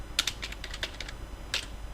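Keys tapped on a computer keyboard in a quick irregular run of clicks, close and fairly soft against a quiet room, with a short pause before a final pair of presses.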